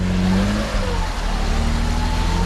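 A car revs hard, trying to pull off wet grass, engine droning steadily and loud with a rising pitch sweep, no voices over it.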